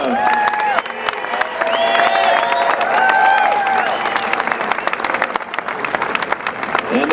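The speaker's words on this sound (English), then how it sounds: "Please give a big round of applause for Steve Paranto" An audience at the 2019 Pickleball Hall of Fame induction ceremony bursts into sustained, loud applause mixed with cheers and whoops, filling the whole stretch before tapering slightly.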